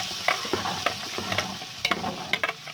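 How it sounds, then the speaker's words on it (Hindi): Ground masala frying in hot oil for fish curry, a continuous close sizzle with a spoon stirring and scraping at irregular moments, alone without talk. "अच्छे से मसाला भूनेंगे।"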